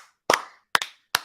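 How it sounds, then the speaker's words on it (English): A few loud, separate hand claps from a small group, three sharp bursts spaced unevenly over about a second with silence between them. "round of applause for just anyone from Canada"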